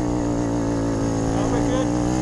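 A 50cc moped engine revs hard during a five-hour enduro race at Winchester, a steady, close, buzzing drone that holds strong throughout.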